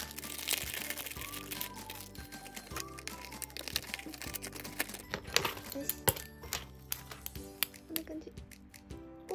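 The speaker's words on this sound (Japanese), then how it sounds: "まずセブンティーミュージアムのものから開封していきます。" Packaging around random merchandise from the SEVENTEEN museum exhibition is unwrapped close up, giving continuous crinkling plastic and paper rustles with small taps and cracks, while a person speaks quietly underneath.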